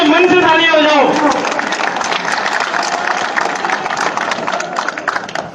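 An audience at a civic celebration in Didwana bursts into sustained applause, dense and loud at first and then thinning to scattered claps, with an amplified voice speaking over the opening second.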